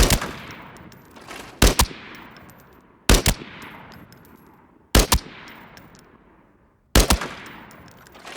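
Rifle shots from T951 and T03 5.8×42 guns in the video game Arena Breakout Infinite: four sharp, loud reports, a couple doubled, spaced roughly one and a half to two seconds apart, each trailing off into a ringing echo, with no talking.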